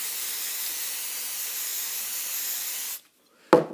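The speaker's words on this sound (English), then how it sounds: "And you spray it." Max Hold hairspray sprayed onto a hair bow in one long, steady aerosol hiss lasting about three seconds, close and fairly loud, cutting off abruptly before a short sharp tap.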